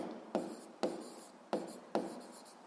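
A pen writes on paper in four short separate strokes, each a soft scratchy onset fading away, close and quiet with no talk.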